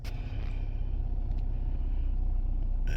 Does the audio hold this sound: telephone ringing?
no